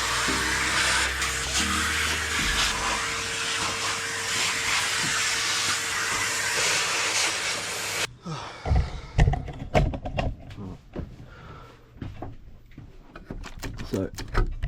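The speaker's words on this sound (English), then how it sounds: "One is trying to get Hoover in there somehow." Vacuum cleaner sucking dust out of a camper van panel, a steady loud hissing roar for about eight seconds that cuts off, followed by knocks and handling clatter with someone talking.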